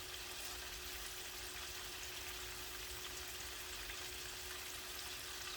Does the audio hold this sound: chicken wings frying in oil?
yes